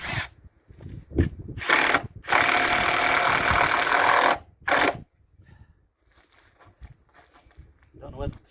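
A power screwdriver whines in short bursts and one long loud run as screws are driven into recycled timber planks on a Portuguese farm, followed by quieter handling noises and a voice talking.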